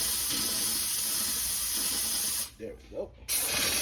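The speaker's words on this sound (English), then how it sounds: "got this steamer right here. It shouldn't be spraying out that much water." A handheld steamer sprays a steady hissing jet of water and steam onto Air Jordan 1 Low Starfish sneakers during cleaning, cutting off briefly while someone speaks, then resuming.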